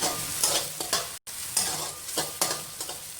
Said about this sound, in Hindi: ये मैंने ऐड किया है और इसके साथ अब मैं इसको थोड़ा सा फ्राई करूँगी